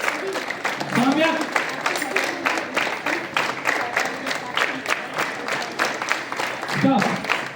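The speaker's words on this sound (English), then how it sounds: "All of you clapping louder." Schoolchildren clap together at a morning assembly, a dense rhythmic patter of many hands, close and steady, with voices calling out over the clapping.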